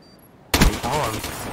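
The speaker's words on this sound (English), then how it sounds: "What is that, a light machine gun?" An RPK light machine gun in Call of Duty opens fire in a sudden loud close burst that continues as a sustained rattle after a brief quiet lead-in.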